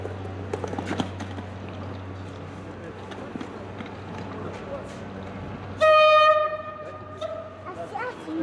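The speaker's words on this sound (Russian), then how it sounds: "Он едет, смотри, поезд Hyundai." A Hyundai passenger train arrives with a low rumble and then sounds a loud, sustained multi-tone horn blast; voices talk quietly in the background.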